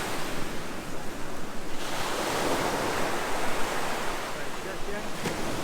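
Surf breaks steadily on a sandy beach at Sozopol, Bulgaria, on the Black Sea, a continuous broad wash of waves with a louder swell midway and wind across the microphone, no voices.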